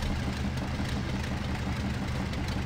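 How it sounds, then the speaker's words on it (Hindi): Rough, rattling engine of a damaged jeep in the Spintires video game, chugging like a tractor; a steady low idling drone with heavy vibration throughout, no talk. "देखिए ट्रैक्टर जैसी आवाज़ आने लगी अपनी जीप में से"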